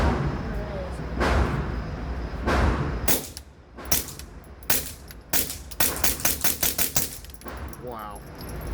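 Suppressed gunshots at an outdoor shooting range, a string of sharp muffled cracks, first spaced out and then coming in quicker succession, with people talking nearby.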